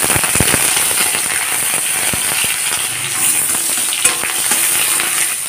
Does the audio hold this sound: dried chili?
yes